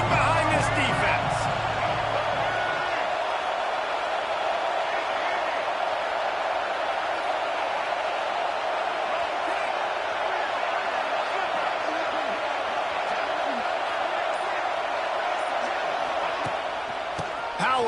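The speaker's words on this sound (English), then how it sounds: "this crowd is getting behind this defense." A college football stadium crowd roars steadily behind the defense on a big third down in the red zone, a dense sustained cheer under a commentator's voice.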